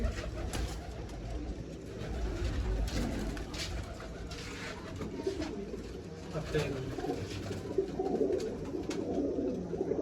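Pigeons coo in soft, repeated bursts against a steady background murmur, fairly close, with a voice faintly present now and then.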